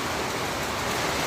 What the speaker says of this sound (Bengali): আরে বৃষ্টি হচ্ছে